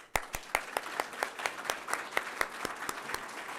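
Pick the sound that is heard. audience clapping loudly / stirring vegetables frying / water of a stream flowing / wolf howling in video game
audience clapping loudly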